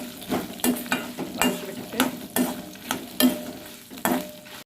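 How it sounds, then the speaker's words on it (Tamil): About ten dry red chillies sauté in a pan for gooseberry chutney, with a soft sizzle under regular stirring scrapes that knock against the pan every half second or so, fairly quiet and close. "ஒரு பத்து வரமிளகாய் இதையும் நல்லா இதோட சேர்த்து வதக்கி விட்டுட்டு"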